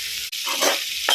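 Sliced ivy gourd (dondakaya) frying in a kadai gives a steady, close, loud sizzle that runs throughout, with a brief dip and a few swells as the pieces shift.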